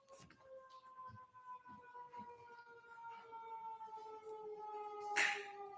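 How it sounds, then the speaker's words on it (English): A distant siren wails steadily in the background with a sustained, slowly shifting tone over low rumbling ambience; a brief louder burst near the end. "I was just waiting for the siren"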